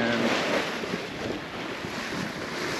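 Strong wind rushes over the microphone with ocean waves washing around a sailboat offshore on open sea, a loud continuous broadband roar with no voices.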